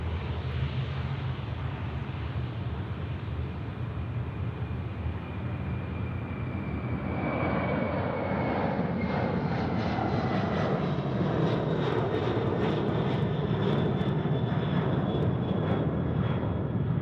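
An airliner landing on runway 34 left at Sydney Airport, its jet engine roar loud and continuous, swelling and shifting in pitch as it passes and touches down, with no voices.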